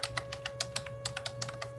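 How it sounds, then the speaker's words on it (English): Someone types on a computer keyboard in a quick, uneven run of light clicking keystrokes, close and clear against a low steady hum, with no voices. "Here's someone typing."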